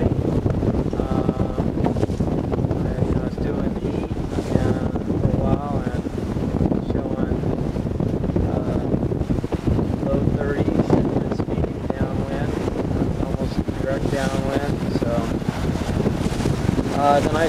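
Strong wind, sustained 30 with gusts to 40, roars and buffets the microphone without letup, mixed with rushing water and the movement of a sailboat at sea near Hawaii.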